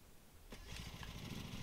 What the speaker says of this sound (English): Hold X to start engine.